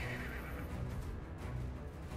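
Odin's horse whinnying loudly in the video game Final Fantasy VII Rebirth, a drawn-out neigh over a low rumbling battle backdrop, with no talk.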